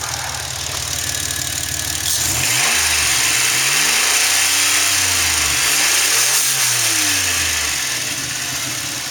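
A rusted 1999 Plymouth Voyager with a 3.3 engine and automatic overdrive, 193,170 miles, idles close by, then revs up twice in smooth swells before settling back, steady and loud with no talking.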